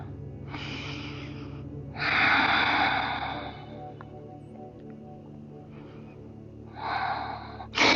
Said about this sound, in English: those big deep breaths, oxygen flowing